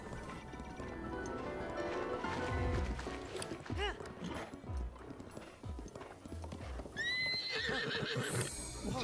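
A horse in the video game Breath of the Wild gallops with rhythmic clip-clop hoofbeats, then gives a loud, high whinny near the end, mixed with game sounds and a player talking.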